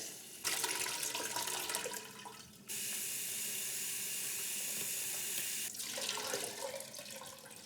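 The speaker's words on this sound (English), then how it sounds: "just make sure you wash it until your water runs clear." Water runs steadily from a tap into a sink, with splashing and swishing as rice is rinsed, the flow briefly changing before continuing.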